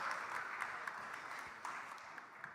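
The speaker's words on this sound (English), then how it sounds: "Another round of applause for our amazing thought leaders." Conference audience applauding after a panel on Web3 gaming, a faint, distant wash of clapping with a few sharper individual claps standing out.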